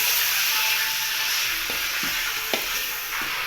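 Pieces of chicken sizzle and hiss steadily in a hot pan for a curry, a constant close frying crackle with a few sharp stirring clanks and no voices.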